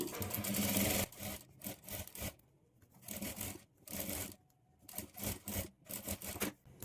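A sewing machine top-stitches alongside thread piping on a blouse sleeve in quick bursts of rapid needle chatter, starting and stopping repeatedly with short pauses between runs, close and fairly quiet.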